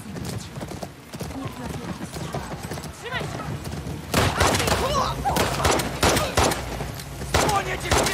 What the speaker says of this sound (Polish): Tam się strzelają ludzi.